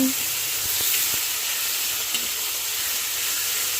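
Chicken sautés in a pan, a soft, steady sizzling hiss heard close, with a few faint clinks and a brief, quiet voice underneath.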